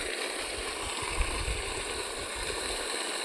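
Water pours steadily from a Shakti 3 HP solar pump with a 30-metre pump, a continuous rushing gush that stays even throughout at moderate level, with no talk over it.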